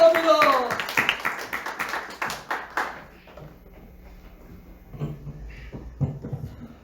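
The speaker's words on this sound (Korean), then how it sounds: "하나님께 박수로 노래드립니다." A church congregation at Sunday worship claps along in rhythm as voices sing for the first few seconds, then the clapping fades into quiet with a few soft taps and thumps.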